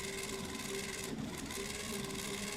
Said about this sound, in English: This will reverse the polarity and the motor moves clockwise.